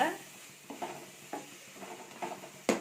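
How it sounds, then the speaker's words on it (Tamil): Spice powder and green chillies being sautéed in a pan for vada curry, soft repeated stirring scrapes with a light sizzle underneath, close but quiet, with a sharper clack at the end. "சேர்த்து நல்லா வதக்கிக்கலாம்"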